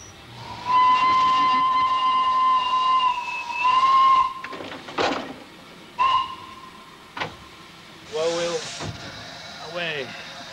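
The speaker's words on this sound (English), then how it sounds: "Give the signal on a whistle." A steam locomotive whistle, from Victorian locomotive Lion or GNR No. 1 and Hardwicke, sounds in several blasts, a long steady one first, then shorter toots, with hissing steam and chuffing between them.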